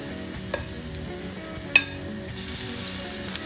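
Shrimp fritters (okoy) sizzle and crackle in hot oil in a pan over medium heat, a steady close frying hiss with a few sharp pops and spoon scrapes.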